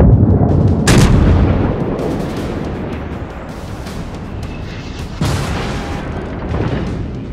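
A coastal battery fires in World of Warships, a heavy booming salvo at the start and another sharp report later, each rolling into a long rumbling decay over steady battle ambience.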